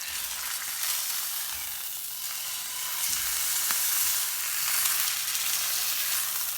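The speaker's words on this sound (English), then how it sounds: "then I'm just going to place my roast into that hot skillet just to give it a nice" A beef roast sears in hot olive oil in a cast iron skillet, producing a continuous, bright hissing sizzle that swells slightly midway, with a faint low thump as it settles.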